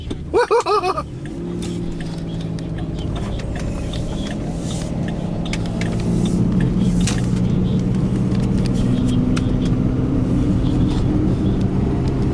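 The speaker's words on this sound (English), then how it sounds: "I got a green light. I gotta put her in gear and go." A car pulls away from a green light in Davidsonville, Maryland, its engine rumbling steadily and building slightly as it shifts into gear and drives off, heard from inside the vehicle.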